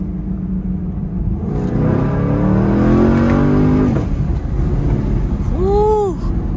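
Camaro 1SS with an 8-speed transmission, its engine loud and close as it revs upward through a rising tone, then settles into a steady rumbling cruise while driving, with no talking.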